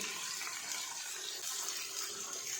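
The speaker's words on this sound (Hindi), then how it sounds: "तो ये पानी हमने डाला है" Water poured into a cooking pot holding ghee, chopped ridge gourd and finely cut onion for a curry, a steady splashing stream running loud and continuous throughout, with no voices.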